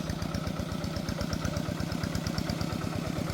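A farm tractor engine runs at a steady idle, with an even, rapid, loud chugging beat throughout.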